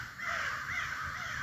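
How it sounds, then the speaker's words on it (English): Crows caw harshly and repeatedly in the distance, a steady overlapping chorus with no talking. "those crows are noisy"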